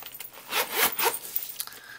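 A Kate Spade zip-around planner is unzipped, giving a brief close scratchy zipper pull that sounds in two quick strokes, with no talking.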